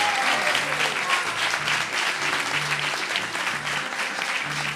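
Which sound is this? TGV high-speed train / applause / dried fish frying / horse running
applause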